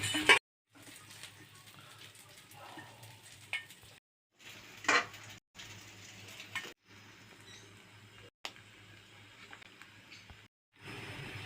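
Fried Dhela sea fish being lifted from a pan, with scattered clinks and scrapes of a utensil against the pan and faint sizzling between short pauses.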